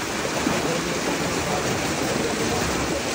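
Strong water current rushing at a fishpond, a steady, loud, dense wash of flowing water that holds unbroken throughout with no pauses.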